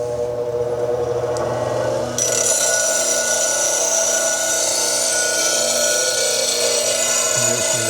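Bench grinder sharpening a woodturning bowl gouge on a Wolverine jig, a loud steady motor hum and whine that starts up abruptly and keeps running, with the grinding wheel's sustained high ring.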